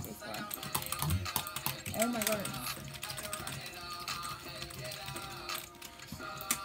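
Computer keyboard keys hammered rapidly and continuously to spam a game macro, a dense clatter of close taps, while a person briefly exclaims over it.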